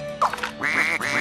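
A cartoonish duck in the Scribblenauts Unlimited video game quacks twice in quick succession, loud, close and alone.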